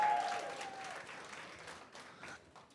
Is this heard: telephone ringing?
no